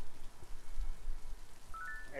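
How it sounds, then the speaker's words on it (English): Light rain falling in the farming-life video game Littlewood, a faint, steady hiss of patter throughout, with a couple of soft tonal chimes near the end. "Oh, and it's raining."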